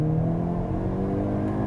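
A Hyundai Kona N engine drones and revs inside the cabin during a downshift, a steady close engine hum with road noise and no talk.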